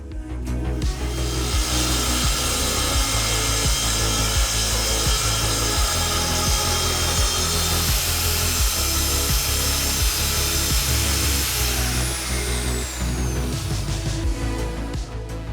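A table saw rips through 3/4 inch Radiata pine plywood sheets, a loud, close, continuous rasping cut with a dense, rapid rhythmic chatter that runs unbroken throughout.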